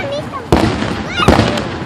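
Independence Day fireworks explode in two loud, close bangs about a second apart over busy outdoor noise, with faint whistling trails rising between them.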